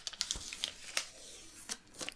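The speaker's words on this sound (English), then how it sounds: "what I can do now is remove my tape." Masking tape peeled back off watercolor paper on a mixed-media craft piece, a series of short dry crinkling and tearing rustles, close and quiet, with no talk.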